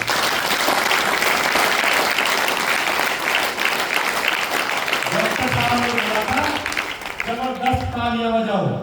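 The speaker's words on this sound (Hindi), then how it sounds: "चलो ताली बजाओ एक बार" A crowd at a business motivational seminar claps in a loud, sustained round, and a voice starts speaking over the tail end.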